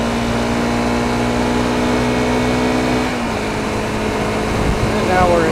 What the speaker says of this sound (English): So I'm in 5th right now. It's a very smooth motor.